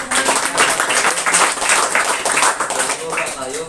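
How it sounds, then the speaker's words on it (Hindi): A crowd claps for a newly elected village head at a gathering, with dense, steady applause and voices mixed into the clapping. "ताली बजाइए।"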